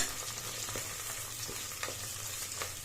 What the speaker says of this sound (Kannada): ಚೆನ್ನಾಗಿ ಫ್ರೈ ಮಾಡಿ ಒಂದು ಎರಡು ನಿಮಿಷ